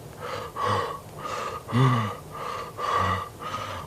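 A narrator's voice performs heavy breathing for a storybook character lying on his back, a slow series of loud, rasping gasps and wheezy exhales close to the mic.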